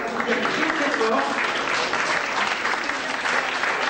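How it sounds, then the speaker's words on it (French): Dense, sustained applause from an audience at an international competition ceremony in Nice, steady and loud throughout with no clear break. "Vous pouvez l'applaudir très très fort."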